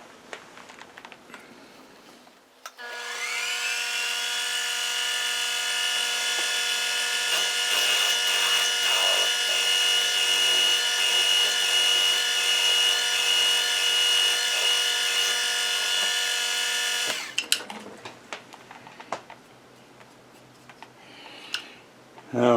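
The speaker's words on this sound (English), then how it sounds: "Now I get set up for a tapping drill." A tapping drill cuts a workpiece on a metal lathe: a steady, loud mechanical whine holds for about fourteen seconds, framed by short bursts of clatter and handling noise before and after.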